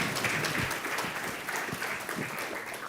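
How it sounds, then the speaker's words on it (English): Audience applause at a panel discussion on food access, a dense steady clapping from a roomful of people filling the whole moment. "Big round of applause."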